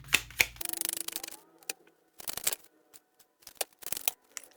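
Two tarot card decks are shuffled by hand in quick bursts of riffling and flicking, with short pauses between bursts, close and fairly quiet.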